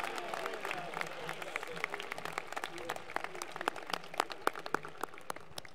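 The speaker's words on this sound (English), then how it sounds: "Let's give it one more round of applause for our student speakers this evening" Applause from the audience at the Broken Arrow High School Class of 2022 graduation ceremony for the student speakers, a fairly quiet, steady patter of many hands clapping with a few louder claps standing out near the end.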